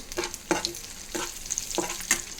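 Curry leaves frying in oil for a tempering, heard as a quiet sizzle broken by about five soft, spaced stirring scrapes, with no voices.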